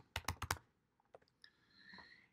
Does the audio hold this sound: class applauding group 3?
no